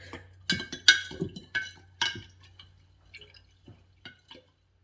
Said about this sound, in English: now I've got to give it a stir again